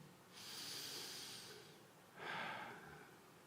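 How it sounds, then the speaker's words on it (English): Someone takes two deep, slow breaths close by, each a long airy hiss, the first stretching over a second and the second shorter, alone and quiet. "Breathing nicely."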